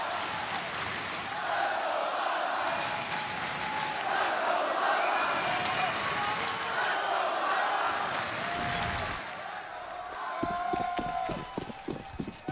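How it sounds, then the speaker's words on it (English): A crowd in an esports arena at a Counter-Strike: Global Offensive major final cheers loudly and steadily. Excited commentary runs over the roar, followed by a few sharp in-game sounds near the end. "Listen to this crowd!"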